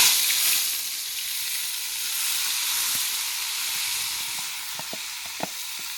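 Chicken pieces for a chicken gravy drop into hot oil in a pot, setting off a steady loud sizzle and hiss with a few sharp spattering pops near the end.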